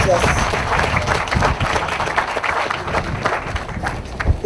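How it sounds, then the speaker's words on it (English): Applause from a crowd at a primary school rededication ceremony, a dense, fairly loud patter of many clapping hands mixed with crowd noise and voices. "Give them a big round of applause"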